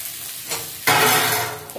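A paste of ginger, onion and garlic fries in a hot pan, a soft stirring scrape giving way to a loud, steady sizzle that carries on close by with no voices.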